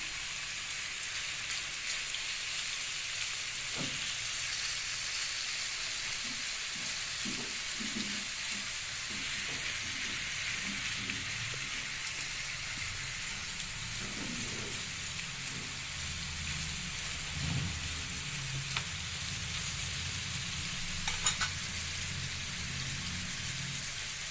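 Steady sizzling and crackling of chicken frying in hot oil, with occasional soft clinks and stirring knocks; no voices.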